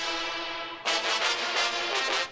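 Synth brass line played an octave higher for extra top end in a liquid drum and bass production, entering after a quieter sustained start with bright, rhythmic stabs that pulse loudly and steadily to the end.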